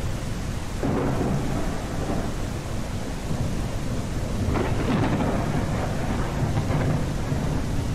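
Thunderstorm in the video game Primal Earth: steady heavy rain with deep rolling thunder swelling twice, loud and continuous with no voices.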